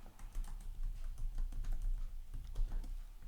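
Rapid typing on a computer keyboard, a steady stream of close, light key clicks with no pauses or talk, recorded while entering a book cover title.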